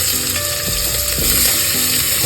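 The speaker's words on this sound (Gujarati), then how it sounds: "મસ્ત વઘાર થાય છે" Spices for masala Maggi, with cabbage, tomato, onion and coriander nearby, temper in hot oil, giving a steady dense sizzle and crackle, close and continuous, with occasional stirring clinks and no talk.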